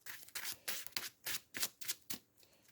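A deck of playing cards being shuffled by hand gives a quick series of about eight soft, papery riffles and snaps in a steady rhythm, close and quiet with no talking.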